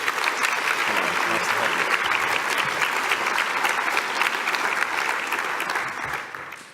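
Sustained audience applause fills a conference hall for keynote speaker Donna Ah Chee, steady and dense for several seconds before tapering off at the end.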